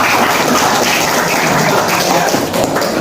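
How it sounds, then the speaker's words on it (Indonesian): A ninth-grade Islamic studies class at a Jakarta junior high school claps together, a dense, steady patter of many hands lasting about three seconds without a break. "Tepuk tangan semuanya."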